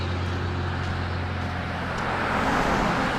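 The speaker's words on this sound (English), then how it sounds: "there's some trucks going by" Trucks rumble past on a road in a steady wash of traffic noise that swells louder toward the end as one draws closer, with no voices.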